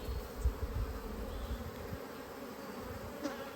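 Honey bees at a rescued hive buzz in a steady, close drone, with a few brief louder bumps and no talking.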